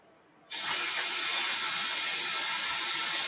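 Steady, close hiss of steam rising from a plant-based shepherd's pie as it cooks, starting abruptly after a brief quiet moment and holding loud and constant with no talk.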